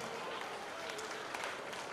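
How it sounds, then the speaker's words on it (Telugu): A school audience applauds children at a Flower School event, a dense continuous wash of many hands clapping at steady loudness throughout, with no clear pauses. "Please clap for them."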